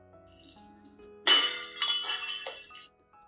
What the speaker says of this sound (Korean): 이번에는 2명이 내지르는 비명과 함께 유리 깨지는 소리가 더 크게 났다.